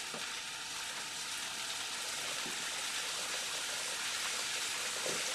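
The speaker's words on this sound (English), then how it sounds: "sizzling bacon. Oh yes, listen to that." Bacon strips sizzle in a frying pan, a steady, dense crackling hiss that runs unbroken from start to finish with small pops scattered through it, close and fairly loud with no voices.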